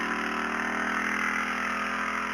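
Motorcycle engine running at a steady, even hum with a constant drone and no clear revving, continuous throughout and moderately close.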